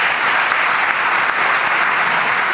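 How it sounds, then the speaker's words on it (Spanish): An audience in Crevillent applauds during a radio program, a steady, loud and dense wash of many hands clapping that continues throughout without talk. "Y este aplauso desde Crevillent es para ti."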